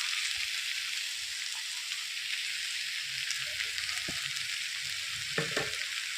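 Cumin powder and chilli powder fry in hot oil with sautéed ingredients for a katla fish curry with potatoes and drumsticks, a steady close sizzle with a few soft stirring scrapes near the end.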